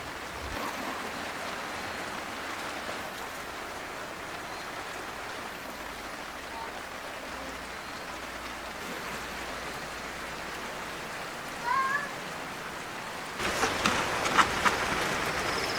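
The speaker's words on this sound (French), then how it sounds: "Il pleut vraiment beaucoup." Heavy rain falls steadily outside during home cooking of rice, a dense continuous hiss that runs throughout and briefly swells louder near the end.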